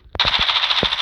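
An MP5 submachine gun in COD Mobile, with the Season 7 Chainsaw design, fires loud, sustained automatic bursts after a brief shot at the start, nearly unbroken for about a second.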